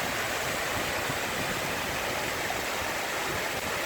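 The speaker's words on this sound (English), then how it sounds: "I'm at Goyt Valley at the moment, photographing this waterfall yet again." Steady broadband rush of a waterfall at Goyt Valley, a continuous close roar of falling water filling the scene with no voices.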